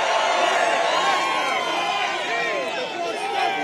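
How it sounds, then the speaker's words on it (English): A large crowd at a campaign rally in the Bronx, New York, cheers and shouts in a dense, sustained roar with whoops rising through it and no pauses. "What a crowd."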